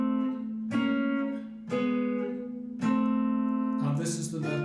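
A guitar plays four chord strikes in which two notes move while one note is held underneath. Each chord rings clearly and sustains alone, with a brighter change on the last strike.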